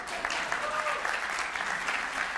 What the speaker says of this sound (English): Yeah, gotta clap for that.